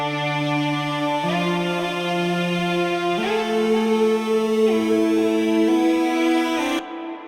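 Layered Moog synthesizer tones sustain together in a smooth progression, the chord shifting a few times before cutting off at the end.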